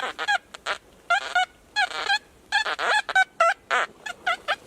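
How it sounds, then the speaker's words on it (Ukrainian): Short buzzy electronic tones sound in quick bursts, a dozen or so, wavering in pitch with brief gaps between, fairly loud and close. "Куди би не тикнув прибор, скрізь є сигнали кольорові."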